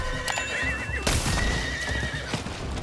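A horse ridden in the video game Diablo 4 lets out a loud, shrill whinny up front, followed by pounding hoofbeats and heavy galloping thuds, close and alone with no talking.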